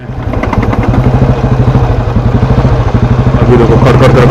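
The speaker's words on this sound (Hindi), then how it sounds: "इंजन कवर से भी कुछ एबनॉर्मल साउंड आ रहा था।" An old Royal Enfield Bullet single-cylinder engine with a loose nut and a damaged engine cover, idling loudly up close with a fast, even thumping beat and a metallic clatter, no talking.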